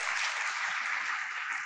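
An audience claps at a spiritual discourse gathering in a short, steady burst of dense applause with no voices.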